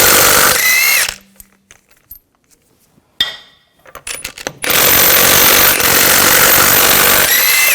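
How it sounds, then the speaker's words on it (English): A power tool with a 19mm socket spins lug bolts off a BMW X5 wheel in loud whirring bursts, broken by a quieter pause with clinks of metal before the tool starts up again. "We're going to remove the wheel, use a 19mm socket,"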